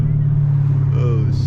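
A supercharged Camaro ZL engine drones in a loud low steady roar, with a brief rising blip near the end as it downshifts, heard from inside the car with talk over it.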